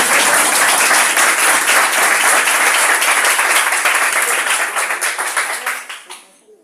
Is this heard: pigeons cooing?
no